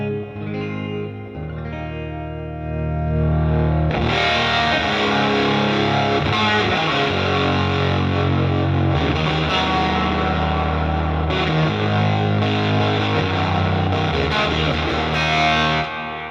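A SUHR Classic S electric guitar with an SSV humbucker, played through a Line 6 Helix on the bridge pickup, starts with clean-ish strums and then swells into a loud, fuzzy, driven tone with sustained chords and riffs, alone throughout.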